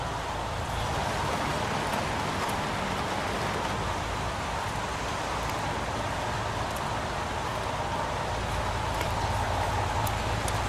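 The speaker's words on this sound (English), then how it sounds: "Goddamn rain. Hasn't stopped pouring since I arrived." Steady pouring rain in the game Heavy Rain, a dense continuous hiss of drops on surfaces at a crime scene, loud and unbroken throughout with no voices.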